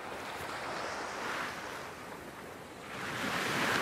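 Sea waves wash onto a beach with wind, a soft continuous surging hiss that swells and recedes, moderately distant and alone.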